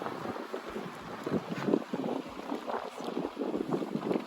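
Gusty wind buffets the microphone in uneven rumbling bursts, steady and fairly close, with no voices, on a brisk, dry 48-degree day at Cerro Gordo near Death Valley.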